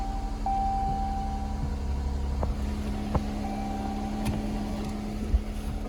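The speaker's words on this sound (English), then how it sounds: "Cluster illuminates and the car starts." A 2019 Jeep Cherokee idles steadily just after starting, a low continuous engine hum with a faint whine and a few light clicks, no voices.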